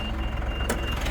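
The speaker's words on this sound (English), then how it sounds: "Now that is beeping at me because I got the keys in my pocket," A high, steady key-reminder chime beeps from a running 2016 Mitsubishi Pajero Sport Exceed with a 2.4 turbo diesel, sounding close over the low engine rumble and ending with a brief broadband clunk.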